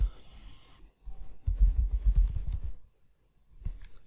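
Computer keys click in a short burst of quick, close presses as a command is typed on a keyboard, with a brief pause before and a single tap after.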